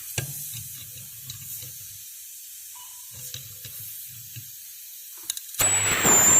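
Freon refrigerant bursts out with a sudden loud, broad hiss near the end as the seal on a refrigerator that is not cooling is cut open, after quiet handling noises and faint taps.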